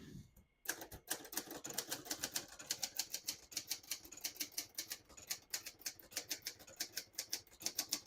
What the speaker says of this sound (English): It's the funnest typewriter to type on.